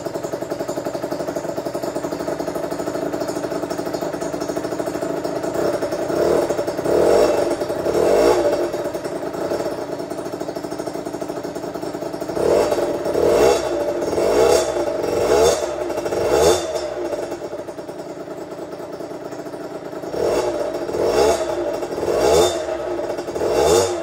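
MRT motorcycle after crankshaft bearing maintenance, starting straight away and idling close by: a steady engine drone with repeated throttle blips and revving surges, plus some mechanical clatter.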